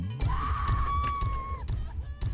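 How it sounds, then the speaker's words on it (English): A headless creature in the horror management game Lobotomy Corporation lets out a sustained, wavering shriek over a busy game backdrop with short thumps. "How are you still screaming without a head?"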